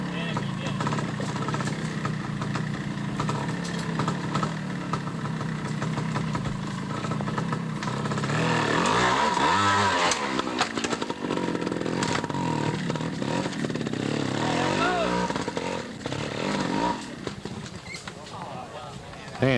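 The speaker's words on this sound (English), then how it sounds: "And Eddie lets the fire go out in the engine" A trials motorcycle engine at the 1989 Observed Trials World Championship in Tweed, Ontario, idles and revs unevenly at mid distance throughout, with someone talking over it.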